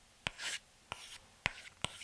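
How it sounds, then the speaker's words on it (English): Apple Pencil tip scratching across a matte, paper-like textured iPad screen, four short sharp taps each followed by a soft scratchy stroke, close and quiet. "it almost sounds a bit more like paper as well"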